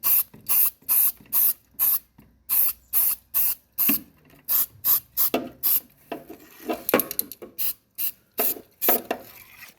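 Short bursts of spray paint, exhaust manifold paint applied onto a weld on a drift car under repair, about fifteen separate hisses in a steady rhythm, close and loud, with no talking.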